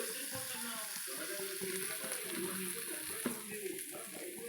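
Butter melting and sizzling in a hot kadai while making butter paneer masala, a steady close crackle with soft stirring and clinking throughout.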